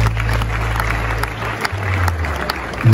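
An audience applauds at a gala evening awards ceremony, a continuous wash of clapping heard over a low hum.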